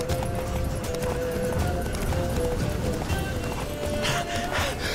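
A horse's hooves trotting in The Witcher 3 game, a fast, steady clip-clop run under continuous game ambience and faint tonal music, without clear speech.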